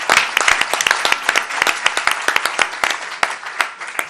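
Applause from the audience at a women's conference panel in Bizkaia, with sharp, distinct claps in a lively, fairly sparse rhythm from a modest crowd, heard alone and close.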